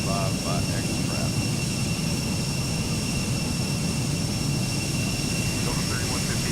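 Embraer E-175 jet engines in the X-Plane 12 flight simulator, a steady loud roar with constant high whines running throughout, with faint radio chatter underneath.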